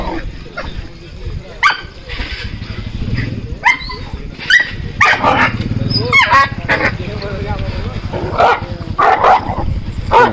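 An aggressive Malinois puppy barks and yips in sharp, repeated bursts during a socialization training session, close to the microphone, while a handler talks and gives commands between the barks.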